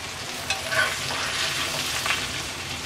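Hilsa fish fries in hot oil, giving a steady, soft sizzle and crackle up close with a few brief louder pops.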